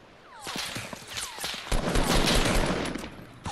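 Rapid bursts of gunfire in the battle royale game Fortnite, dense overlapping shots and a steady automatic-weapon volley, loud and close, with no talking.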